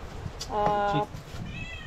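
A cat meows twice, first a drawn-out, fairly loud meow and then a shorter, fainter one, at a beach resort in Real, Quezon Province, with people talking in the background.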